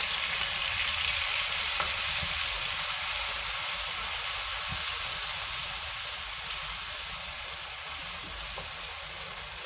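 Ginger garlic paste sizzling and frying in a hot pan for a bitter gourd keema dish, a steady, dense crackling hiss with a few small pops and no voices.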